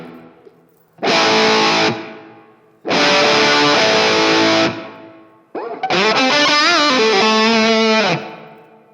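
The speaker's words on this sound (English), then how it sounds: "you can tell how quickly that hum is squashed after I silence a chord" A distorted electric guitar rings out three sustained chords through a MOOER Noise Killer noise gate in hard mode, each cut off abruptly so the hum drops almost instantly to near silence between strums.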